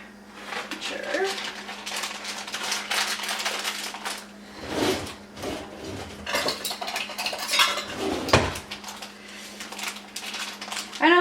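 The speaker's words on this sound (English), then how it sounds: "So I'm gonna sprinkle them into my little pan here." Pine nuts sprinkled into a small pan, with light clinks and rattles against the metal and clattering of cookware, mixed with ongoing talk.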